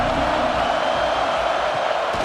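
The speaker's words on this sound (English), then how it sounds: "This crowd ready to make its presence known." A stadium crowd in the College Football 26 video game at a Michigan versus Nebraska game roars as a steady, loud, dense wash of cheering. It holds without a break for a couple of seconds.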